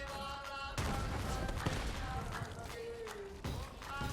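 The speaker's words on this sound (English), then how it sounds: "if you can hit this grenade, yeah, that just did 28k to that spider ant" In the Borderlands 3 video game, a Red Queen grenade explodes with a sudden broadband blast that holds as a dense rumble, followed by a second burst, all within busy game noise.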